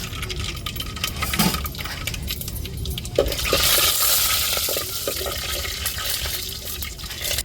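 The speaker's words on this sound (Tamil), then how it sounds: "எண்ணெயை ஊற்றியாச்சு இப்போ வெந்தயமும் கடுகையும் சேர்த்துக்கிறோம்" Fenugreek and mustard seeds hit hot oil in a pan for an onion kuzhambu, setting off a broad hissing sizzle with scattered ticks and crackles, close and fairly loud, with no talking.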